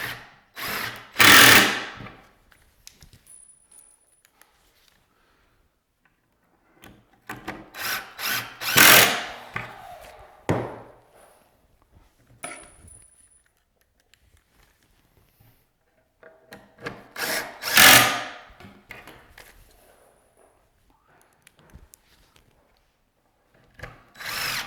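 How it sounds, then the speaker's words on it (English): Drill driving long pocket screws into a wooden cubby cabinet, with three separate bursts of close, whining screw-driving spread out between quiet pauses and no talking. "I'm going to go ahead and use the longer pocket screws going back this way"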